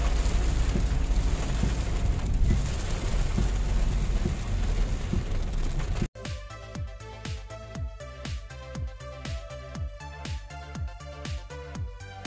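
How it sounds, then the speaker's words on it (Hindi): Heavy rain pours down in a steady, loud hiss, then gives way to quieter, irregular tapping drops; nobody speaks. "इतनी तेज बारिश स्टार्ट हो गई है सामने"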